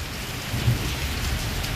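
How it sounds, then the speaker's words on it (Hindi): Torrential rain pours over Islamabad during a downpour, a steady dense hiss of heavy rainfall close by with a low rumbling undertone, continuous and loud with no voices. "इस्लामाबाद में मूसलाधार बारिश, अपने घर से आपको ये लाइव दे रहा हूँ।"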